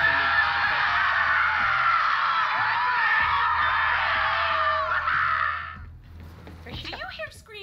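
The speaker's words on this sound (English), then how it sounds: "Do you hear screaming, or am I having another one of my episodes?" Sustained screaming in the video game Borderlands 3, a loud, continuous shrill wail lasting several seconds before cutting off, followed by fainter game sounds.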